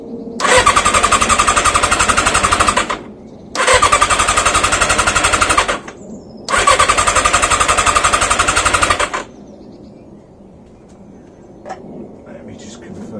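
An engine with the choke fully on cranks loudly and close by in three long rattling bursts of about two and a half seconds each, separated by short gaps, without catching. Afterwards it falls to near quiet.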